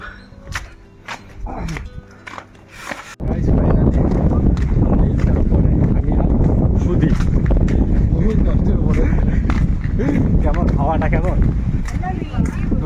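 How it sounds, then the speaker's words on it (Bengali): Loud gusts of wind on Nandi Hills near Bangalore buffet the microphone in a constant roar after a quieter start, with a voice talking underneath. "প্রচুর হাওয়া দিচ্ছে এখানে"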